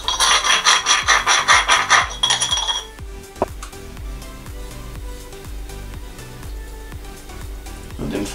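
Ground pepper being rubbed by hand into a bacon-wrapped pork fillet, a close, dry rasping scrub with faint clinks for about three seconds, then quieter handling noises.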